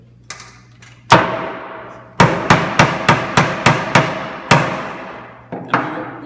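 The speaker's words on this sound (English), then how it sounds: "we're gonna finish nailing in this side" Nails hammered into a homemade wooden diddley bow, a few loud, sharp, ringing blows, then a quick regular series of close strikes.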